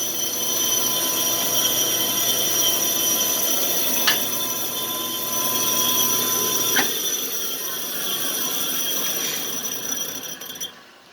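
A Sioux 645L valve grinding machine running steadily with a continuous mechanical whine and hum as its chuck spins, with two brief sharp clicks partway through and a sudden stop at the end; no talking.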